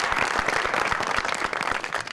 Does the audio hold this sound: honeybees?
no